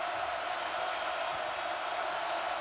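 A basketball arena crowd at an NC State Wolfpack at Duke Blue Devils game makes a steady, broad roar of cheering and murmur, even and sustained with no distinct peaks, under faint commentary.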